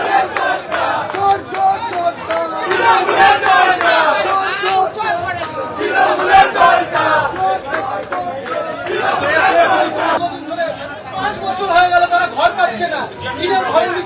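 Crowd of protesters chanting 'thief' slogans while surrounding a Trinamool party office in a housing dispute with MLA Kunal Ghosh, loud and continuous with overlapping voices and shouted rhythmic bursts throughout.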